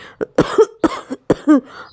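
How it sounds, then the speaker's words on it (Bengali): A person coughs several times in short bursts, close and fairly loud, with brief pauses between them. "আমারও কাশিটা বেশ বেড়েছে"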